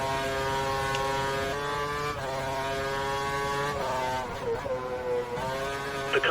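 Racing car engines from the F1 2013 video game at the Belgian circuit drone continuously with several overlapping revving tones that rise and shift through gear changes, loud and steady throughout with no talk.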